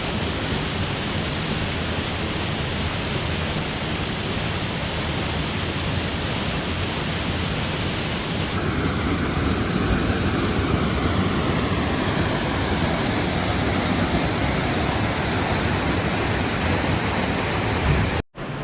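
Multnomah Falls near Portland roars as a loud, steady broadband wash of falling water, close and continuous with no voices, its tone brightening partway through.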